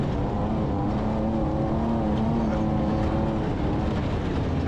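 A race car at the Reading Rumble Darkwater race, heard from inside the cockpit on the fastest section of the course at around 70 to 75 mph, with a loud, steady engine drone and road roar throughout.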